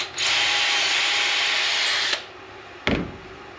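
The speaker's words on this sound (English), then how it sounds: "and then just drill the hole." A power drill bores a pocket hole through a clamped wooden board in a pocket hole jig, one sustained loud whine for about two seconds that stops abruptly, followed by a short sharp clunk.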